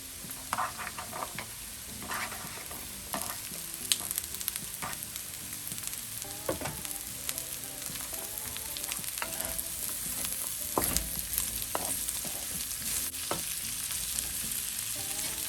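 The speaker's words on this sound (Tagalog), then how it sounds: "Kaso may Baguio beans ako kaya ihahalo ko na rin siya" Baguio beans being stir-fried for pancit bihon, a steady close sizzle of frying with repeated scraping and clanking of a spatula stirring through the pan, no talking.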